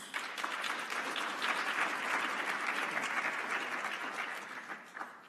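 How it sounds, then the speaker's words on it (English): An audience at an industrial efficiency conference applauds, a steady, fairly soft wash of many hands clapping together for about five seconds, tapering slightly near the end. "please give them another round of applause"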